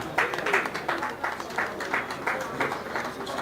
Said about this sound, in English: Can I have a round of applause for him, please?